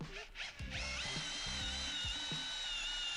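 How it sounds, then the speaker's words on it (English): A Bosch AdvancedImpact 18 cordless combi drill spins up to a steady high whine and drives an 8mm bit into softwood, with the motor bogging slightly as it bites; close and continuous for a few seconds. "So now I'm going to test it out with an 8mm bit, and this is in some softwood."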